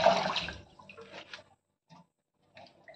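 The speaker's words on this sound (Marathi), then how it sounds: "बघा की गढूळ पाणी निघत आहे, असं व्यवस्थित काढून घ्यायचं आहे सगळं पाणी।" Water pours and splashes steadily for about a second, then a few brief trickles and drips follow in near silence.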